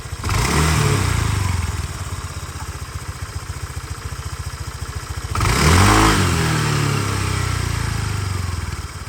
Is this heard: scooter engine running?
yes